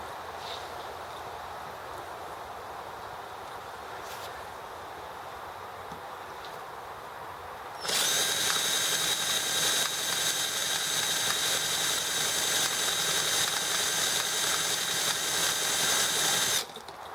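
An EM1 engine turns over as someone tries to start it in the morning: low background hiss, then a loud steady cranking roar kicks in halfway and runs for about nine seconds before cutting off.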